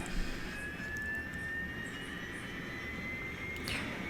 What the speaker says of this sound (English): You can hear the APU starting up, and you think it's ready, but it's not